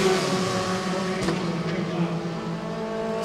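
Formula 4 race car engine rounding the final corner of a South East Asia championship race, a steady close, loud harmonic drone that holds a constant pitch, with faint speech mixed underneath.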